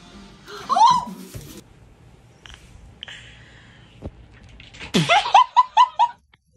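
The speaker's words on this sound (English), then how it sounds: "It's a lot of sneeze." Cat sneezing in quick bursts, a sharp sneeze early on, then a rapid run of four or five sneezes close together near the end, fairly loud and close.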